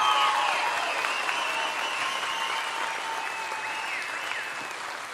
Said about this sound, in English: let's give one last round of applause for the class of 2023